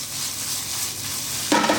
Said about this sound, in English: Good hot pan, get it sizzling.